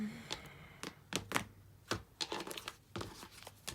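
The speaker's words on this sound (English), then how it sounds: "I tend to shuffle too much." Tarot cards being shuffled by hand in a reading, a run of soft, crisp riffling taps and flicks in quick irregular bursts, close and fairly quiet with no talk.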